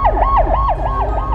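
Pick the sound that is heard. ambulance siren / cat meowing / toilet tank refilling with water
ambulance siren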